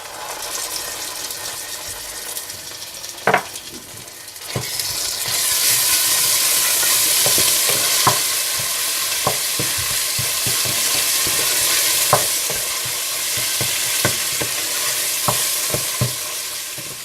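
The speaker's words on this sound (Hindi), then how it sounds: "और बाकी प्याज में आप अदरक लहसुन डालकर भून लें।" Onions with ginger and garlic frying in a pan for fish biryani, a loud, steady sizzle that swells after a few seconds, punctuated by scattered clicks and scrapes of stirring, with no one talking.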